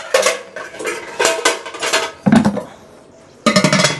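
A metal wok lid and cooking pots are handled and set down, producing bursts of sharp clanks and rattles separated by short pauses, loud and close by.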